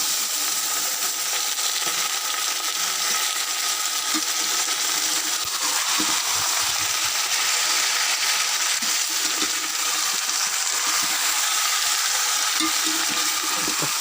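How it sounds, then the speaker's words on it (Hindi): Two kilograms of chicken frying in a pot over browned onions, a steady, loud hiss and crackle of sizzling oil throughout, with faint occasional clinks and stirring. "तो फ्राई होने तक पकाएंगे पहले।"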